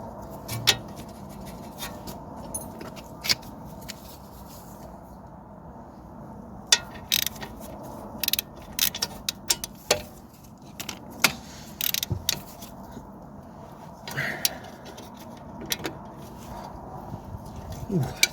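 A socket ratchet clicks and clatters against metal while working on the front suspension of a Vauxhall Astra J during a broken coil spring replacement, with scattered tool rattles and light handling noises, close and moderately loud, with some talk.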